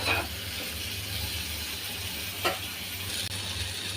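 Fish stir-fried in spice paste in a pan: a steady, close sizzle and hiss of frying, with a couple of brief stirring scrapes and clicks over it.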